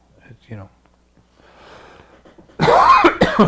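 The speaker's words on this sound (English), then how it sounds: "I don't know why I've got this cough" Faint murmured talk, then a sudden loud burst of coughing up close, two or three harsh hacks in quick succession.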